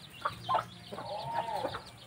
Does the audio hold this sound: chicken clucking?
yes